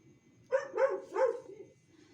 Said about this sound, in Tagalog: Ay, Diyos me, yung aso.